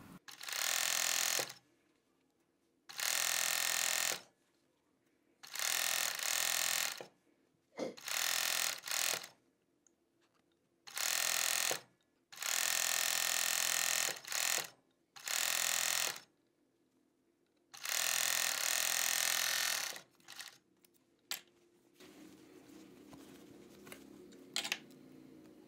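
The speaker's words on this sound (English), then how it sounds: "Do not stretch the fabric as you serge." A 4-thread Jack overlock serger sews sweatshirt fabric in repeated loud, close bursts of rapid mechanical whirring. Each burst lasts one to three seconds and is separated by short pauses, and quieter handling noises follow at the end.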